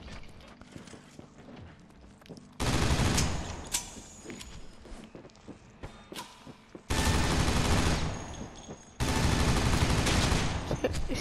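Fully automatic gunfire in a video game, three sustained loud bursts of rapid fire separated by quieter stretches of mechanical clicks and handling noises.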